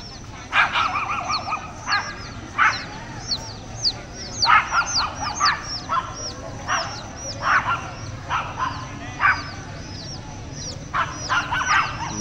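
A dog barks in repeated short bursts, some clustered in quick volleys, at moderate distance over a steady outdoor background hum.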